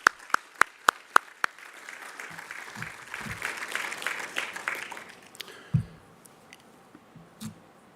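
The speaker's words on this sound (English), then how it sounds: "So one last round of applause." A round of applause at a research conference opens with a few sharp, close hand claps, then settles into a brief, soft spread of clapping from a modest audience before fading amid scattered thumps and rustling.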